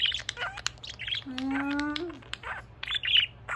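A pet budgie chirps and squawks up close in quick, bright bursts, with a longer warbling call in the middle, alone without talk.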